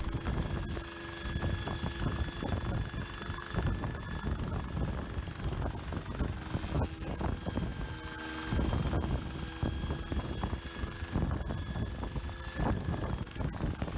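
A homemade helicopter runs steadily throughout, a continuous engine-and-rotor drone with tonal whine and wind buffeting on the microphone, loud and close with no talking.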